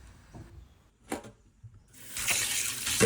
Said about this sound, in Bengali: তো সব কিছু জিনিস এখন ধুয়ে নেব।